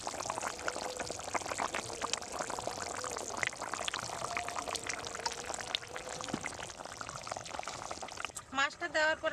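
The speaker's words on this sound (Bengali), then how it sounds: "জলটা আমার ফুটে উঠেছে, এবার ভেজে রাখা মাছগুলো দিয়ে দিচ্ছি।" Fried katla fish pieces dropped into a pot of boiling water for a fish curry, a steady bubbling and pouring wash throughout with a few louder splashes near the end.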